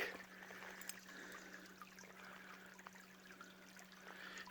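Coal Creek, a small stream, trickles and burbles steadily at low volume in an outdoor wooded setting, with a faint constant hum running underneath and no voices.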